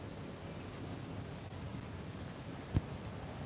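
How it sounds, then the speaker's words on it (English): Gusts of wind buffet a microphone on a large hotel balcony, a steady low rumbling roar that holds throughout, with one brief thump near the end. "apologies if you get some gusts of wind noise"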